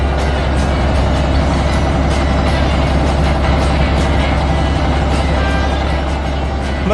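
Heavy construction trucks rumble steadily in a 3D animated scene of an orange excavator building a cliff road through heavy rock, a continuous loud engine drone with faint reversing-style tones and no pauses.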